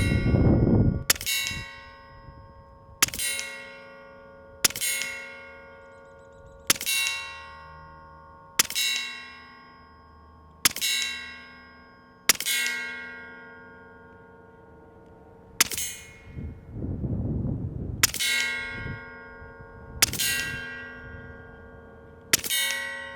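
A Western Mordax PCP airgun fires 25-grain pellets at a 50-yard target, about a dozen sharp, ringing cracks spaced a second or two apart, each with a metallic ring decaying behind it.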